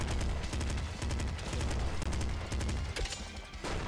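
A bandit blaster weapon firing in the roguelike Nuclear Throne, heard as dense, rapid bursts of gunfire blasts piling on top of one another, loud and continuous with brief dips, with no talking.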